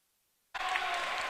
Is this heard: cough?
no